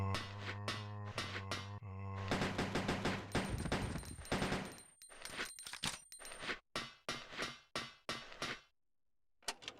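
AK rifle fire in Resident Evil Code: Veronica X, heard as a series of sharp, loud shots over a busy game backdrop, with a dense burst in the middle and then widely spaced single reports that fade toward the end.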